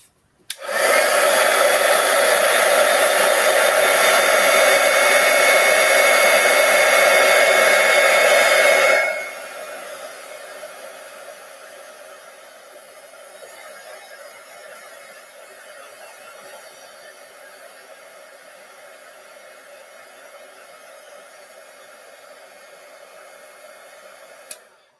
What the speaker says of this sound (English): So I'm going to grab my heat tool again and heat this up again.